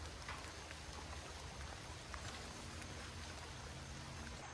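Steady rain patters across the ground and foliage at Blackwater Creek Preserve during a barefoot hike, a faint, even hiss with scattered drops and no voices.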